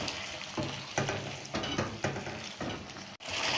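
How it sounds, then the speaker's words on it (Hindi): Potato cubes frying with spices in a pan over a medium flame for aloo methi, a steady close sizzle broken by several scraping stirs and one brief sharp knock near the end. "अब हम मीडियम फ्लेम करके इसको 2 मिनट तक फ्राई करेंगे स्पाइसेस के साथ।"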